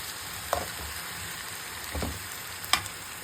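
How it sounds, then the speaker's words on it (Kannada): Tomato and raw banana half-fried in a pan for a balekai sabji, giving a steady low sizzle with a few scraping stir clacks, close and alone. "ಟೊಮೆಟೊ ಇದೆ ನೋಡಿ, ಹಾಫ್ ಫ್ರೈ ಆಗಿದೆ."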